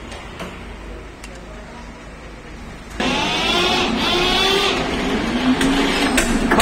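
An Eicher tractor engine cranks and fires up about halfway through, jumping from quiet background into a loud, steady running drone with shifting tones, while people talk nearby.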